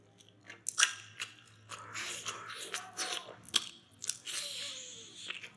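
Crunchy, sticky bites and chewing of cilung, a fried starch snack dipped in sauce, heard close and quiet, with repeated bites and mouth sounds in an irregular rhythm and no talking.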